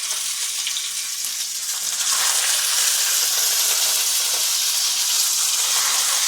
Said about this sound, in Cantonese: 而家陣我釀好呢個豆腐竹皮啊，我擠落去炸一下嘅